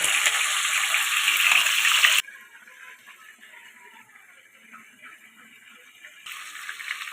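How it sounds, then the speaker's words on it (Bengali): Marinated chicken pieces for a Bengali lemon chicken fry in hot oil with a loud, bright hiss that drops away abruptly to a quiet stretch, then surges back near the end. "তেলটা আমার গরম হয়ে গেছে এবার ম্যারিনেট করা মাংসের পিসগুলো এক এক করে আমি ভালো করে একটু ভেজে নেব"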